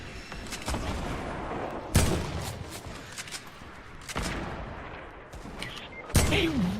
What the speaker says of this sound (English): Do you think they're gonna be mad when I start shooting these rockets?